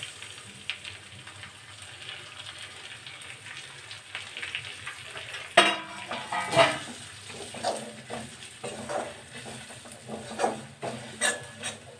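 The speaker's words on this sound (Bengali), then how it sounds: "মশলাটা ভাজা ভাজা হয়ে এসছে" Ground turmeric, chili, cumin and coriander powder frying together in a pan, giving a steady soft sizzle with intermittent stirring scrapes, close and moderately quiet, with no talking.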